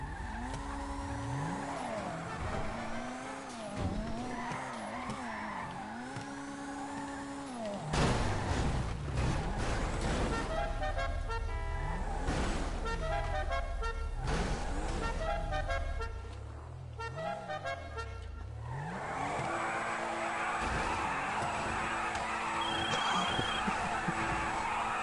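A Porsche in GTA Online drives loudly with a steady engine drone, repeated revving swells, shifting pitch, and tire squeals and skids, continuous for the whole stretch with faint voices underneath.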